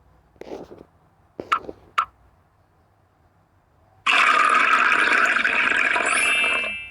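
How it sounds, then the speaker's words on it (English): Vinegar poured through a funnel into an empty bottle: a few brief gurgles at first, then a sudden loud, sustained rushing flow of liquid that runs for several seconds before easing off. "Now carefully pour the vinegar into the bottle."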